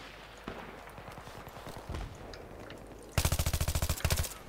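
AEK assault rifle fire in the video game Battlefield 3: a few scattered distant shots, then a loud, rapid automatic burst of about a dozen rounds followed by a short second burst.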